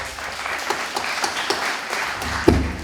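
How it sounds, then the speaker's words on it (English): Steady applause from an audience at an MLK Day celebration hosted by the Cape Verdean Association in Brockton, honoring Moses and Maria Rodriguez; dense clapping holds evenly for a few seconds with a slight swell near the end. "Let's give them a round of applause."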